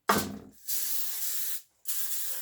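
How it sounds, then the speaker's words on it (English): Two long, steady hissing sprays from an aerosol can of nonstick cooking spray onto a foil-lined casserole dish, close and fairly quiet, separated by a brief silence. "Take nonstick spray."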